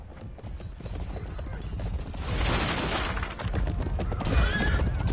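Horses whinny and hooves clip-clop in a busy outdoor scene around a wagon, with a loud neigh near the end and voices mixed in.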